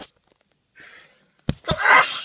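A single sneeze following a soft in-breath, a sharp close burst trailing into a breathy spray of air.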